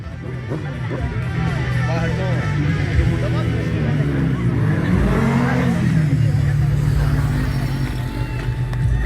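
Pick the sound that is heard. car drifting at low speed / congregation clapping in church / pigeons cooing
car drifting at low speed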